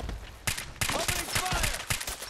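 Gunfire in the video game Fallout 4, a quick run of loud, close shots in irregular bursts over a couple of seconds, with brief gaps between volleys.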